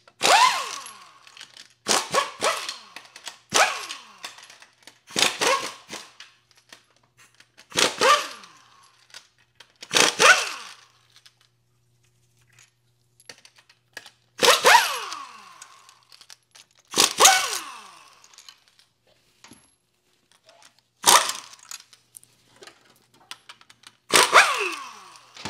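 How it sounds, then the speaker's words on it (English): Impact wrench or power tool bursts loosening 14 mm bolts on the transfer case adapter of a Tundra AB60F transmission, about nine sharp, loud bursts spaced a few seconds apart with quiet gaps between, no talking. "I'm going to start by getting rid of most of these 14 millimeter bolts, starting with the transfer case adapter."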